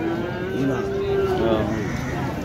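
A calf of an improved Australian breed moos in a long, drawn-out call close by at a livestock market in Baneshwar, with murmuring voices and crowd noise in the background.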